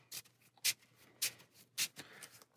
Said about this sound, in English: we're going to take all the cards discarded, shuffle in here.